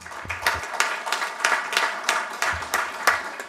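Audience at a panel discussion meeting gives a round of applause, a moderate steady patter of many hands clapping with slight rhythmic swells, heard on its own.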